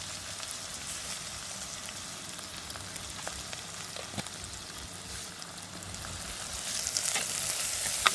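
Fennel and fenugreek seeds frying in hot oil give a steady, dense sizzle with scattered crackles and pops, growing slightly louder toward the end, with no voices.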